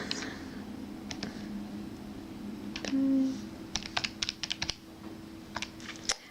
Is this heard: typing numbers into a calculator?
yes